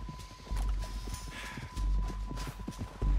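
Horse hooves clip-clopping in the open-world game Red Dead Redemption 2, a steady walking rhythm of soft thuds at moderate distance with a faint whinny and low ambient background.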